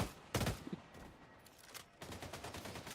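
Bursts of gunfire from the Valorant video game, a dense volley early on, a few scattered single shots, then sustained rapid firing toward the end, loud and close.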